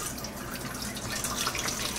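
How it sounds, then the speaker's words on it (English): Elderberry juice poured carefully through a fine wire strainer into a bowl, a steady broadband liquid rush and trickle running continuously throughout, moderately quiet and close with no voices. "pour my juice over that strainer."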